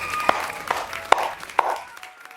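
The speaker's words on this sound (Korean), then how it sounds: "못 맞추신 분들에게는 격려의 박수 보내드립니다" A handful of slow, separate claps, about five spaced hits ringing out over a quiet background, offered as encouragement during a Korean land-auction talk.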